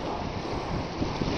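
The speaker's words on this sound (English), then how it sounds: "Trade winds are blowing quite strong." Strong trade winds at sea, steady around 25 knots and gusting near 30, roar as a continuous loud broadband rush across the whole clip, with water wash mixed in and a few slightly stronger gusts near the end.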